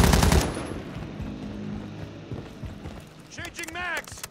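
Gunfire in Call of Duty MW3 Zombies opens with a loud, close burst of rapid shots, then fades into softer rumbling combat as a voice shouts over the action.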